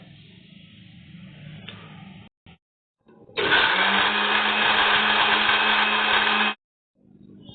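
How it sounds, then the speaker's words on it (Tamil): An electric mixer jar grinds biscuits and sugar into powder, whirring steadily and loudly for about three seconds before cutting off abruptly, preceded by quieter handling sounds. "தேவையான அளவுக்கு சுகரை வந்து நாங்க இந்த பிஸ்கெட்டோடயே சேர்த்து நல்லா மிக்ஸ் பண்ணி பவுடர் பண்ணிக்கிறோம்."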